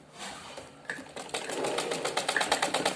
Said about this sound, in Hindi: चलिए पहले एक सिलाई हम यहाँ भी मार लेते हैं